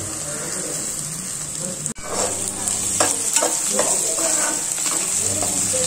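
Four onions fry in a pan toward golden brown, giving a loud, dense, continuous sizzle with scattered crackles and stirring scrapes after a brief clatter near the start.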